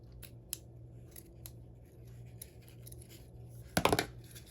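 Scissors snip a piece of craft material in a series of quick, quiet cuts, ending in a louder, denser crunch of closing blades near the end.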